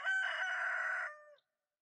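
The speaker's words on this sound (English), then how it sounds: "Yeah, we hear the rooster crowing." A single rooster crow in Stardew Valley, close and clear, sustained for about a second before tapering off into silence.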